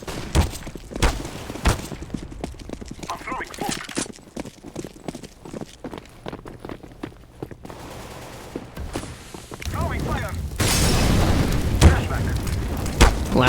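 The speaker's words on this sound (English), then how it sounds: "Flashbangs over out towards the B-bomb site." Flashbang grenades, explosions and gunfire from a round of the video game CS:GO, with a rapid clatter of shots and booms building to a dense roar of blasts, while an excited commentator talks throughout.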